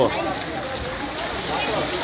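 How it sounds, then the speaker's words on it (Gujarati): Heavy rain pouring in Wankaner, a dense steady hiss with water gathering in a town square, heard alongside talking voices. "વરસાદ પણ જોરદાર પડી રહ્યો છે અને પાણી પણ હવે ચોકની અંદરમાં વધતું જાય છે"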